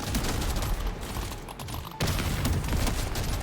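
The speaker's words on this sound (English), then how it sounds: "So you'll see one giant bullet fired, and that's the bolt action going off." Bolt action weapon fire in the video game Deep Rock Galactic Survivor, a dense, loud barrage of gunfire and impacts that briefly dips before a sharp new blast, surrounded by constant game noise.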